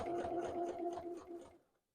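Up close, a sewing machine backstitches a snap tab on a leather wallet in a short whirring run of quick stitches that stops after about a second and a half.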